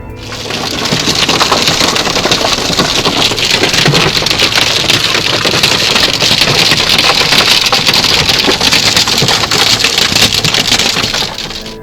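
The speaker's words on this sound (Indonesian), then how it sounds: "Hujan es parah rusak seisi kota." Severe hailstorm pounding a city in Bulgaria, a loud, dense, continuous roar of hailstones drumming on surfaces, with sharper cracks scattered through the downpour and no voices.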